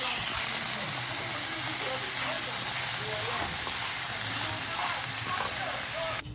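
Tuna and breadfruit sizzle steadily in a pan, a dense continuous hiss of frying that holds level throughout, close and fairly loud with no break.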